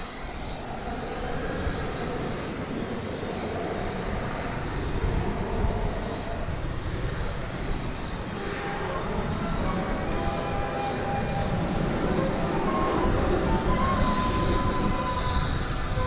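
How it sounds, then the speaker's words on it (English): Airliners at DFW Airport, including a Boeing 737-800 lined up for takeoff, produce a steady, broad jet engine roar that holds throughout, moderately distant and slowly swelling, with no talking. "Many flights lined up to take off here."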